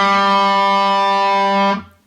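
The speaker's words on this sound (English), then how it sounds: "I'm gonna hit a distortion for this." Electric guitar with a distortion effect, a single sustained chord ringing loud and thick for under two seconds before being cut off abruptly.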